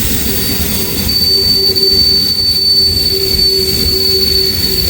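Heavy freight train loaded with potash rolling past at close range, wheels squealing in steady high-pitched tones over a continuous loud rumble of cars, with no talk.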